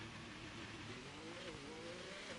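A race car engine revs and pulls away again after hitting the wall in a Miami race session, a fairly faint, steady drone with rising and falling engine tones across the whole moment.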